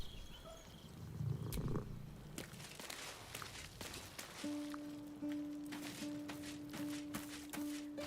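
A cat purrs briefly in Baldur's Gate 3, a soft low rumble early on, then game music and ambient effects carry the rest.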